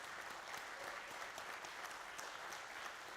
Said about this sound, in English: I would like to ask a huge round of applause for the entire team of Parth Electricals